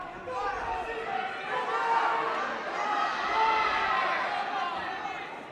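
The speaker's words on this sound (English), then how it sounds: "you can hear that crowd in the background" A crowd murmurs and calls out in a high school gym during a Section 8AA wrestling match between Sauk Centre/Melrose and United Clay Becker, a steady rumble of many voices at moderate distance, with nearer speech running over it.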